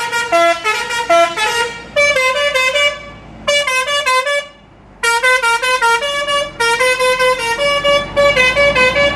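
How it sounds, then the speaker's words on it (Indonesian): A telolet bus horn of the Basuri type plays a loud, multi-tone musical melody in repeated bursts, with a short pause near the middle and no other sound over it. "Ketemu bis suara telolet basurinya unik dan agak beda nih"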